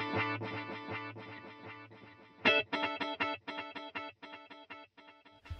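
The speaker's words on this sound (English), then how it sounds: "Stereo delay." Digitech RP1 multi-effects guitar preset with stereo delay: distorted, compressed electric guitar chords and picked notes ring out in a rhythmic pattern, each attack trailed by delay repeats, played alone at moderate volume.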